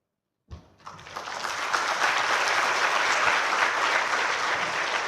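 An audience at an Indonesian religious affairs minister's speech forum breaks into applause, starting abruptly and swelling into a dense, sustained roar of clapping from a large hall crowd, without voices.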